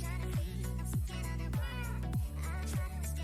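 Cat meowing in Minecraft Java Edition 1.19.2 on a multiplayer server: four or five clear, falling meows repeat at a steady rhythm, loud and close, with no talk over them.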